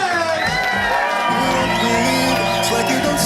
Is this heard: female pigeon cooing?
no